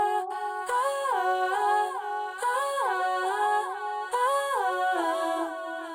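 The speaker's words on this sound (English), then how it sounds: "Split delays sounds like this." A melodic synth phrase processed with a split delay effect, its stepped note patterns echoing and overlapping in repeating waves, steady and fairly loud throughout with no talking.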